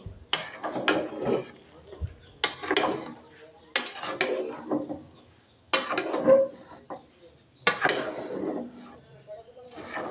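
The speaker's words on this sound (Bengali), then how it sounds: "একটু নেড়ে চেড়ে দিই" Cooked biryani being stirred in a pot with a metal spoon: five or six separate scraping, clattering strokes spaced a couple of seconds apart, close and fairly loud, with quiet gaps between.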